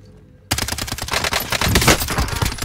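Rapid automatic gunfire from a Call of Duty match erupts after a quiet half second and continues as a loud, dense, unbroken burst of shots to the end.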